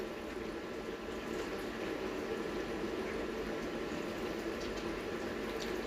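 Chopped ginger fries in a pan while being stirred, a dense, even bubbling sizzle that stays constant and moderately loud, with no voices.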